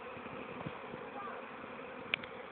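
Bees buzz faintly and continuously around a beekeeper in a bee suit at an apiary, a soft, steady drone with a few brief louder passes close by.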